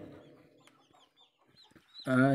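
A hen near her newly hatched chicks, with soft high chick peeps scattered through the quiet before the hen gives a loud, close cluck at the end.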